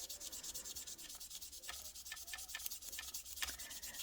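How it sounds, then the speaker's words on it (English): Rapid back-and-forth rubbing of a 3000 grit sanding sponge on a plastic panel of an ICM Admiral Cabriolet scale model, close and soft, with steady rhythmic strokes and a few light taps. "I take a 3000 grit piece of sanding sponge and I'll just sand it down a little bit"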